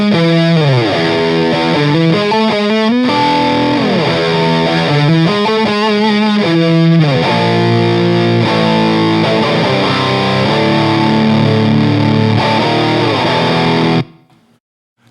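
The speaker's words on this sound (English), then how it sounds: "the pedal almost turns into a fuzz to me" An electric guitar runs through a Providence Stampede DT overdrive pedal with the gain near 2 o'clock, pushed into a thick fuzz distortion. Loud, saturated chords and riffs play continuously, then cut off abruptly at the end.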